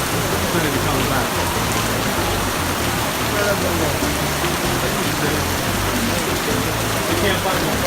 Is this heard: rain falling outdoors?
yes